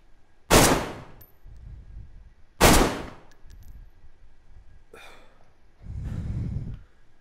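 Gunfire in a video game: two sharp, loud single shots a couple of seconds apart, followed by softer breathy noises and a low rumble.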